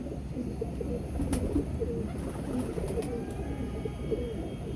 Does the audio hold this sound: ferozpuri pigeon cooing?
yes